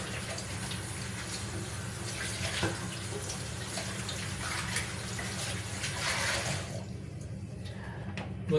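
Tap water runs steadily into a sink while two fish are rinsed under it, a continuous broadband rush with splashy variations, cutting off near the end.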